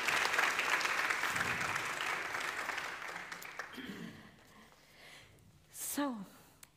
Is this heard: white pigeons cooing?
no